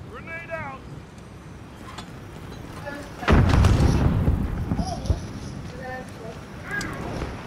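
A video-game grenade detonates with a sudden heavy boom and rumbling decay, preceded and followed by players talking over the game's battle sounds.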